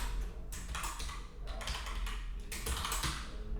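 Code being typed on a computer keyboard: quick bursts of light key clicks in uneven runs with brief pauses, close and quiet.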